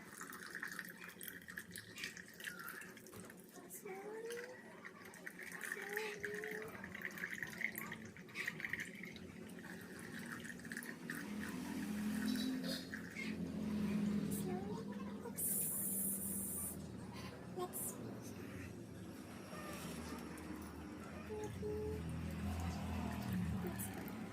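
Water poured into a container of soil for a soil erosion experiment, a soft trickling and splashing that builds gradually, faint and close, with occasional quiet speech.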